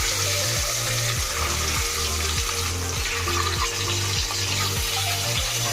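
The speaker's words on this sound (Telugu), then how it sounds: "చూడండి, ఇదిగో ఇలా బాగా ఫ్రై చేసుకోవాలి." Eggs seasoned with salt and chili powder sizzle steadily in a pan for egg biryani, a loud continuous crackle with rhythmic scraping from stirring, close up and with no talking.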